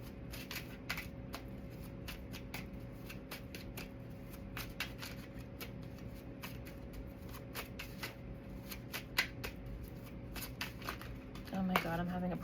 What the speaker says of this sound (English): I'm having a problem shuffling.